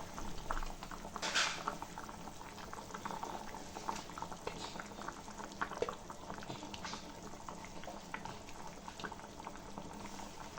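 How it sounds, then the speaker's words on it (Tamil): A pot of fish curry simmering at a rolling boil, a continuous bubbling and gentle liquid patter heard close and steady, with no voices. "இப்போ நல்லா கொதிச்சிருச்சு."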